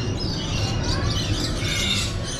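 Lorikeets in an aviary at Busch Gardens chatter and sing continuously, a dense mix of chirps and squawks over a low rumbling background, moderately loud and with no speech.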